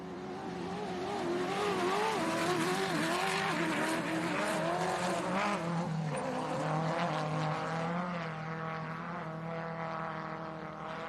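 Off-road race trucks tear along the dirt track at the Don River Dash 2024, engines revving loudly and continuously with rising and falling pitch as they pass close by, with no talk over them.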